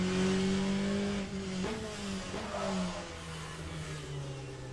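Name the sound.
race car engine from racing video game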